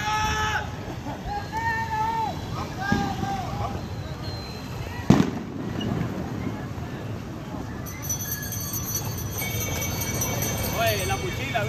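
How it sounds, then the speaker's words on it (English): Fireworks go off during a street demonstration in Nicaragua where shots were fired, with a sharp bang standing out amid a noisy crowd, close voices talking throughout, and whistling or shrill tones near the end. "Seeing some actual fireworks down here."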